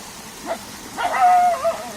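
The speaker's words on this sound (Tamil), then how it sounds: "ஒரு நாய் கத்துச்சுன்னா இன்னொரு நாய் இதோ பாரு இவர் கத்துறாரு" A house dog in Marayoor gives a short yip, then a longer whining, howling bark, close and clear against a quiet background.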